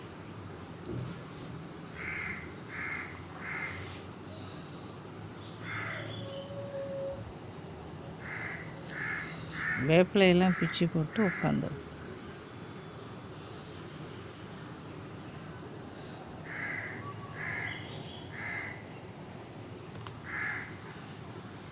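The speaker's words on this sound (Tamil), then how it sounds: "இந்த காக்கா விடவே மாட்டேங்குது தொடர்ந்து பாருங்கள் கத்திக்கிட்டு" A crow caws at a monkey in repeated clusters of harsh calls, nearby and insistent, with a louder burst in the middle and a voice talking briefly.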